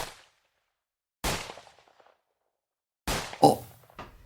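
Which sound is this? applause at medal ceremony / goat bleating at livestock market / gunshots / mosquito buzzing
gunshots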